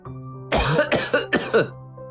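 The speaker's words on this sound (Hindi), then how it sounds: "तभी दूसरे कमरे से खांसने की आवाज आई।" Three harsh coughs in quick succession from an elderly man in another room, muffled and somewhat distant, over a low steady hum.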